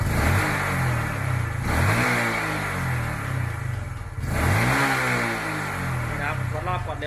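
A Honda Wave 125i motorcycle engine is blipped through repeated revs, rising and falling in pitch several times, loud and close.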